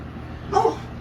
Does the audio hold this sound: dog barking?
yes